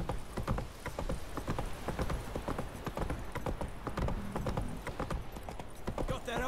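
Hooves clip-clop in a quick, uneven trotting rhythm as a horse moves along in The Witcher 3 video game, close and fairly faint, with a voice speaking briefly.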